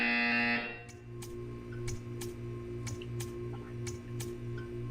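A game buzzer in Portal 2 sounds after a long electronic tone cuts off, then six or seven short, sharp buzzes come at uneven intervals over a steady low hum and music bed.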